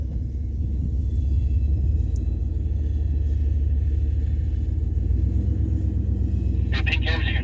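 A Ram 1500 pickup truck, slid 200 ft down a hill, idles in drive while being winched back up, a steady low engine rumble running throughout, with voices talking over it near the end.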